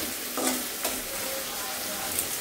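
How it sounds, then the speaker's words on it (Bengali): Onions and tomatoes frying in a pan, a steady soft sizzle with a couple of brief stirring scrapes, close and fairly quiet, no voices. "পেঁয়াজ টমেটোগুলো আস্তে আস্তে ভাজা হয়ে যাচ্ছে"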